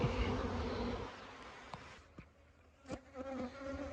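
Soft, steady buzzing of many honey bees, largely nurse bees, at a hive, faint and continuous, with a few brief clicks and taps near the end.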